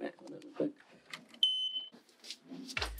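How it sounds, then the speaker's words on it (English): A smoke alarm in an apartment lets out a short, piercing high-pitched beep midway through, with people talking before and after it. "Oh, no, not the fire alarm again."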